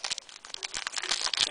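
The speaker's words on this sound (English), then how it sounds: "I'm going to stop shuffling them now." Pokémon trading cards from a HeartGold SoulSilver Undaunted booster box being shuffled by hand, a close, quick run of papery flicks and crinkly slides with no speech.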